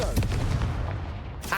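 A Confringo spell blast in a Harry Potter video game, a loud booming explosion right at the start with rumbling debris and crackle trailing off, then a sharp burst near the end.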